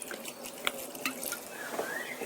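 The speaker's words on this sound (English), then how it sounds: "And I will put in some white wine" White wine poured into a pot of sauerkraut with a bay leaf, a faint, close trickle and light splashing with a few soft drips.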